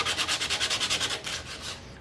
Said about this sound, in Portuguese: Vamos lixar ela agora com a 60.